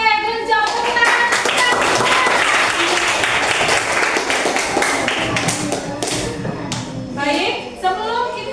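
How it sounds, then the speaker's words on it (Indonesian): Children in a classroom clap their hands in a loud burst of dense clapping and thuds, with kids' voices calling out over it and tapering off toward the end. "Oke, Genjo, tepuk tangan."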